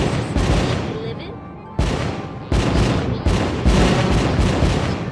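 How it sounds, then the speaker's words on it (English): Fireworks burst in The American Dream PSVR game, a run of loud, sharp booms arriving in uneven bursts about a second apart, each trailing into crackling noise. "Those are some loud-ass fireworks."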